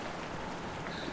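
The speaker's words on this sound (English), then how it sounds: "And the rain got a little harder." Rain within an internet quiz game patters steadily at a moderate level, a brief continuous wash of drops with no voices over it.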